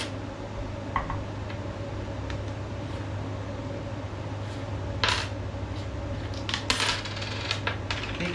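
A quarter coin unscrews a small part on an Excalibur crossbow scope, giving sparse, close metallic clicks and light scrapes over a steady low hum.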